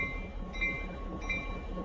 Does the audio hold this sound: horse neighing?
no